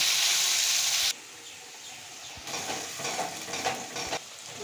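Spices sauté in a hot pan for a Piyali fish curry with tomato and eggplant: cumin, chili, onion and garlic paste, salt and turmeric. A strong hiss starts it, then quieter sizzling with bursts of stirring and scraping.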